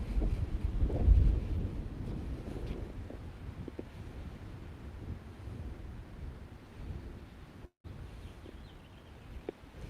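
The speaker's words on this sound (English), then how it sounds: "A little bit of wind here today." Steady outdoor wind buffets the microphone with low rumbling gusts, strongest near the start, continuous for the whole stretch with a brief dropout near the end.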